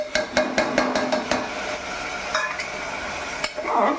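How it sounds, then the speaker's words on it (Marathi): Potato and dal are stirred in a cooking pot for khichdi, with a quick run of sharp metallic clinks and scrapes from the spoon against the pot, then a softer, steadier stirring and a faint sizzle. "ढवळून घ्यायचं"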